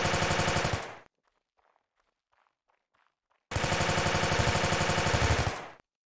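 Loud, rapid automatic assault rifle fire in the Mount & Blade game comes in two sustained bursts of about a second and two seconds, with faint footsteps in the quiet gap between them.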